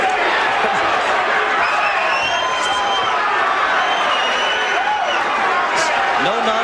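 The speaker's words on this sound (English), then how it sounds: "Crowd chanting his name." Boxing crowd at a Butterbean fight, a loud, continuous roar of many voices filling the arena, with a chant rising and falling throughout; the individual name cannot be picked out.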